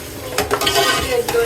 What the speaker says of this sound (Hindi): फिर थोड़ी सी दालचीनी डालेंगे, दालचीनी,